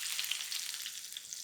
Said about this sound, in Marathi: मस्त चरचरीत फोडणी बसली